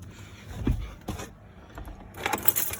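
Car keys jangle and clink against the ignition of a car with its battery disconnected, in a few close metallic rattles with brief pauses between them.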